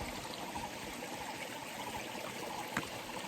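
A natural stream flows at a hiking rest spot with a soft, steady, continuous rush of water that is fairly faint and unbroken by voices.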